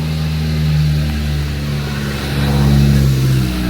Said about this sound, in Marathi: आवाज येतोय आता वरून गाडी येते.